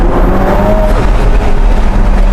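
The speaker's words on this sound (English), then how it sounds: "Ferrari V8 sound that we've gotten used to." A Ferrari SF90 Stradale's V8 engine pulls hard in second gear, a loud, steady, flat-toned roar heard from inside the cabin with no talking over it.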